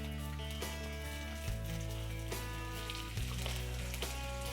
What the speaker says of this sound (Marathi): तेल थोडंसं गरम झालं की त्यामध्ये ना लसूण अद्रकची पेस्ट टाकायची